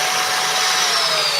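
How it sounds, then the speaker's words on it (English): A Geloja vacuum cleaner runs steadily at full power, a loud, close, continuous whooshing roar with a high whine that holds throughout. "this is what the Geloja vacuum sounds like"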